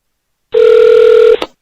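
Telephone ringing before a call is answered, a single loud electronic ring tone held for just under a second, then a brief burst as it cuts off.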